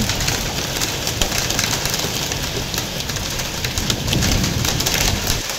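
Steady heavy rain with hail pours down on a rooftop, a dense hiss of drops drumming on a hard surface, continuous and close with no voices.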